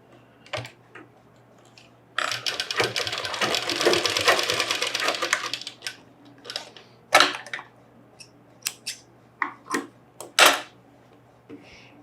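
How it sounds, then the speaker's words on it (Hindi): A sewing machine stitching kurta fabric runs in one steady whirring burst of a few seconds, surrounded by scattered clicks and handling taps of the fabric and machine, close and fairly quiet. "ये जो एक्स्ट्रा कपड़ा है इसको भी आप ऐसा पक्का करके अंदर से सिलाई मार दीजिए"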